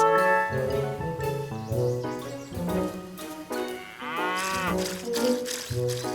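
A cartoon cow in a kids' farm cartoon moos loudly, long drawn-out lowing calls stretching across the whole stretch, with bright cartoon music playing underneath.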